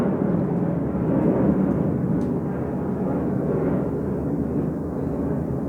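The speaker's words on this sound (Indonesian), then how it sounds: "Itu tampaknya pesawat jet ya" A jet aircraft passing over Parung, Indonesia, heard as a steady, broad, rumbling roar that stays loud and even throughout with no talk.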